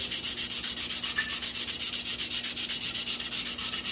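Close, rhythmic back-and-forth strokes of 80 grit sandpaper on a GM tilt steering column part, a steady rasping scrub repeating about eight times per second.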